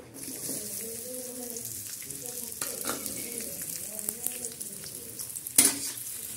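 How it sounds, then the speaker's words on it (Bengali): Chopped onions sizzling in hot oil, with stirring clatters and a loud utensil knock near the end, while someone talks quietly in the background. "এবার দিয়ে দেব পেঁয়াজ কুচি"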